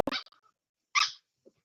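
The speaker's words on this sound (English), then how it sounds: "Puppy ASMRs. They sound like squeak toys." A few short, high yips and squeaky barks from small puppies, close by, separated by brief silences.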